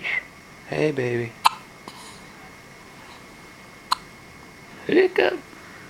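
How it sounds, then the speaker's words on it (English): Two sharp, isolated baby hiccups click out a couple of seconds apart, close to the mic, between bursts of an adult talking softly. "Hiccup."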